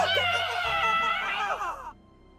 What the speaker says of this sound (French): Ces cris sont très inquiétants.